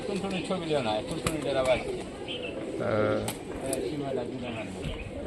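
Pigeons coo in a loft of old Rajshahi performing pigeons, low rolling calls repeating under a man's continuous close-up talk, with occasional sharp clicks.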